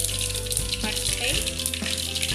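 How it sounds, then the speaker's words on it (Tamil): Mustard seeds sizzle steadily in hot oil in a pan, a close, dense crackling fry that holds level throughout with faint popping over it. "இப்போ எண்ணெய் நல்லா காஞ்சிருச்சு. இப்போ கடுகு சேர்த்துக்கலாம்."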